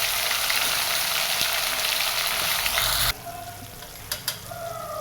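Spice paste of ginger-garlic paste, cumin, asafoetida and ground masala frying in hot oil in a kadhai, a loud steady sizzle that cuts off abruptly partway, leaving faint scattered clinks and quiet crackle.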